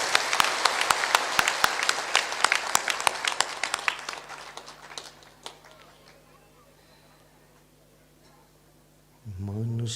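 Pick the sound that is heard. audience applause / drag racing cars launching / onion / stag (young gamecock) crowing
audience applause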